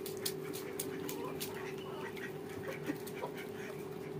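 Ducks quack intermittently while feeding on grain alongside chickens in a backyard, mixed with a steady low hum and scattered bird calls at moderate distance.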